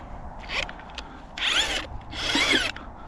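An auger drills into very hard ground to dig a trap hole, giving three grinding, whining bursts, the last two longer and louder, separated by brief quieter gaps outdoors.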